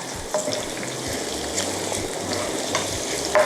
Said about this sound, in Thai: เอาเห็ดหูหนูนะคะ ผัดกับน้ำมันกระเทียมเจียวที่ร้อนค่ะ